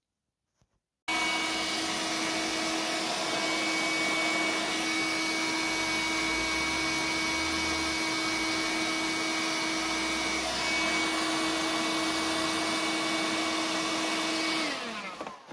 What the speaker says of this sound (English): I'm going to give it a hit with the this heat gun here for a wee minute or two